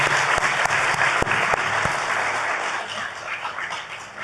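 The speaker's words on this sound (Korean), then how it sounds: "우리 박수로 환영하기를 바랍니다" A church congregation applauds to welcome children standing during a Sunday worship service, steady dense clapping throughout with a few sharper individual claps near the start.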